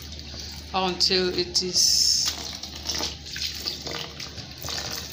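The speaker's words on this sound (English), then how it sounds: "or you keep on washing it, pouring cold water into it" Cold water is poured over editan leaves as they are washed, a continuous splashing and running stream beneath a person talking throughout.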